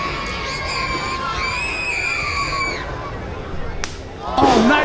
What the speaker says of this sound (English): Woo, the crowd goes.